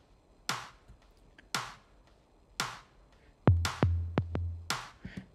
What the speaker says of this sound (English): Yeah, and we have the tom groove.